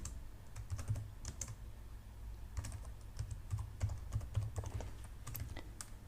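Steady typing on a computer keyboard while a file name is entered in a save dialog, irregular clusters of close, soft keystrokes running throughout over a low background hum.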